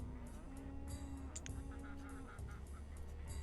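Ducks in the city-building game Banished honk and quack in short repeated calls over a steady low background hum, faint and not far off.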